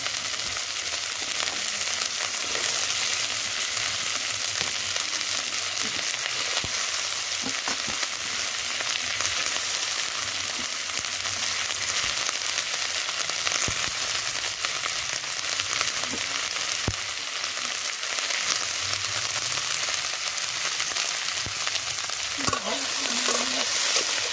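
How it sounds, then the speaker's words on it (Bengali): Chopped onions frying in oil with small puti fish for a curry, a steady broadband sizzle with faint stirring scrapes, continuous and fairly close throughout. "ভাজা ভাজা হয়ে গেছে, এর মধ্যে দেখুন পেঁয়াজ কুচিগুলো দিয়ে দেবো"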